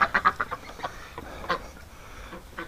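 Domestic ducks quack in a quick burst of several calls near the start, then scattered single quacks follow at moderate distance with quiet gaps between.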